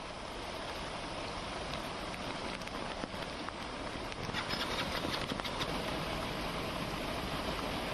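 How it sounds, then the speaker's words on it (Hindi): Heavy rain pours over waterlogged city streets in Noida, a dense, steady wash of noise that holds at the same level throughout with no voices. "भारी बारिश की वजह से लोगों के लिए सड़कों पर चलना दूभर हो गया है।"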